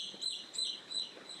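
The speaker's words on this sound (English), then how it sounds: "The birds are nice." Birds chirping at a beachfront resort in Puerto Morelos, Mexico, a steady stream of high bright tweets and calls repeating throughout, moderately close and alone.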